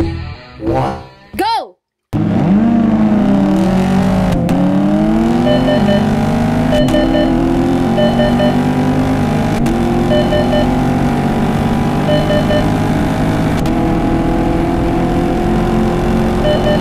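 A Chevrolet Camaro SS 1LE accelerates hard from a standing start, its V8 roar climbing through gears with brief dips at each shift, loud and close; a short burst of voice comes just before the launch.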